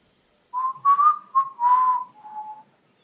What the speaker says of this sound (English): Probably shouldn't whistle.